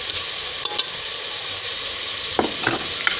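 Chicken with tomato, garlic and ginger fries in a pan with a steady, loud sizzle, broken by a few sharp clinks and scrapes of a spoon stirring. No one speaks.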